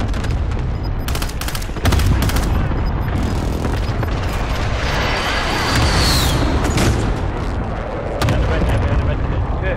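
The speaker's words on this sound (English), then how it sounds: "Be advised, friendly precision airstrike inbound" Friendly precision airstrike explosions in Call of Duty Modern Warfare, heavy booms and rumbling blasts layered with sharp gunfire cracks, loud and continuous, with a faint radio voice in places.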